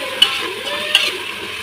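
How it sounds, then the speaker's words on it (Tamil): Soy beans stirred and sautéed in a pan for vegetable rice, with a steady frying sizzle and two sharp scrapes of a spoon against the pan, close and clear with no talking. "இந்த மாதிரி சோயா பீன்ஸ் மட்டும் போட்டு நல்லா வதக்கணும்."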